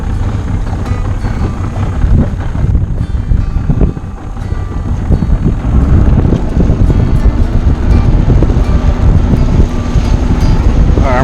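A boat engine with a freshly rebuilt carburetor runs slowly in gear, a steady low rumble close by, heavily mixed with wind buffeting on the microphone and no talk.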